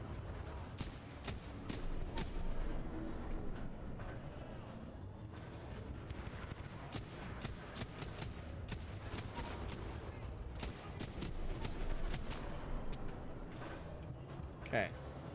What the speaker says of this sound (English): let's just start shooting at them